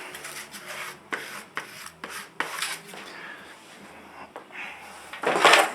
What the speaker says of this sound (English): So we're going to scrape up the rest of this.